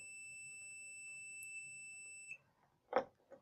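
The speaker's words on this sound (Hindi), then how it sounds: "ये देखिए बीप की आवाज़ आ रही है।" A multimeter's continuity tester emits a steady, high electronic beep for about two seconds as its probes touch a jumper wire, then stops, followed by a few faint clicks and handling noises.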